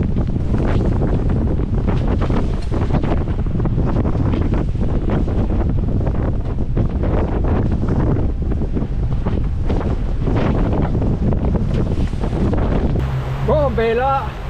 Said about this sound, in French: On a le vent dans le nez.